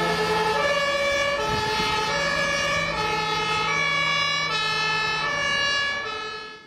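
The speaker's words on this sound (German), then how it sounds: "Blaulicht und Sirenen." Emergency vehicle sirens wail on a road, several steady tones rising and falling in layers, loud and close, with a low engine rumble underneath and no voices.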